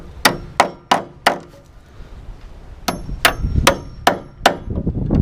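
A hammer drives galvanized 8D 1.5-inch nails into metal floor joist hangers on a tiny house floor, sounding as sharp ringing metallic blows in two bursts of four and five evenly spaced strikes, close and loud.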